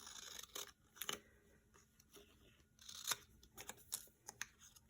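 Paper being cut with scissors for a stamping craft project, heard as quiet, close, irregular snips and rustles in short bursts.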